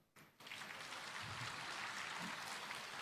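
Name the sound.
applause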